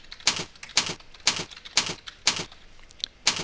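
Typing on a computer keyboard: a slow series of distinct, crisp keystrokes, roughly two per second, fairly faint and close, with no voices.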